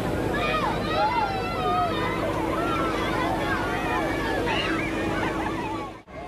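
A fire brigade hose sprays water over a crowd of children at a mass circumcision event, a continuous loud hiss of spraying water blended with excited children's voices and shouts throughout.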